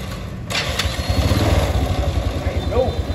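A Honda motorcycle engine cranks briefly with a sharp starter burst, then catches and settles into a steady, close, even rumble, with someone talking over it.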